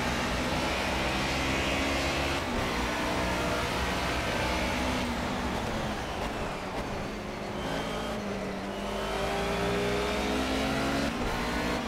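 A Mercedes 190E races at Brno in the rain in the video game Project CARS, its engine roaring continuously and loud, rising and falling through gear changes.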